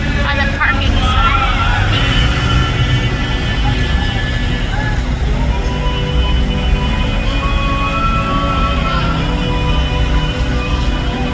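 Continuous night traffic rumble on a Tbilisi, Georgia city street with passing car engines fills the scene, with distant voices and faint singing mixed into the steady background.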